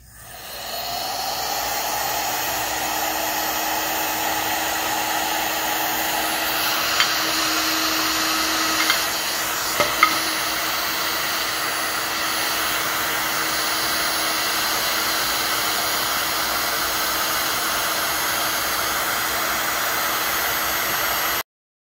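A heat gun on its hottest setting blows steadily while softening Durepoxi epoxy putty on a screw, a constant loud airy roar with a faint whine that runs unbroken throughout.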